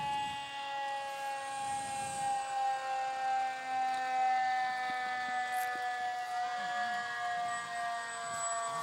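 A fire department engine siren at a Loyalty Day parade wails steadily at a distance, its long sustained tones rising and falling over several seconds with no talk.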